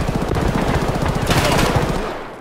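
Rapid automatic gunfire from the Escape from Tarkov video game, dense loud bursts of shots fired nearly nonstop, then tailing off at the end.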